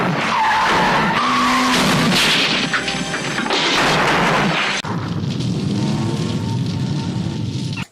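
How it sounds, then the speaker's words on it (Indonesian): Tires skid loudly during a film car chase, with screeching, roaring engines and crashing impacts filling the scene, a sharp cut midway into a continuing dense rumble. "sehingga aksi kejar-kejaran pun terjadi di sini"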